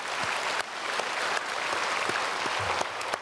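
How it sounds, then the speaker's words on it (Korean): A church congregation applauds the choir during a Sunday worship service, with dense, steady clapping that fills the room. "우리 찬양대에게 박수로 축복하겠습니다."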